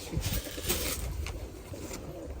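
Mardin pigeons in the street coo in low, repeated soft calls close by, mixed with light rustling and faint background noise.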